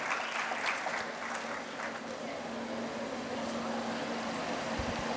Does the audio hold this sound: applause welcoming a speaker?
yes